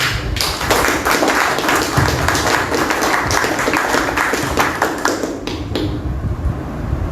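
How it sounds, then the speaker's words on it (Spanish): Loud, sustained applause from a lecture audience welcoming a speaker, dense clapping running steadily for several seconds before tapering off near the end. "Un fuerte aplauso."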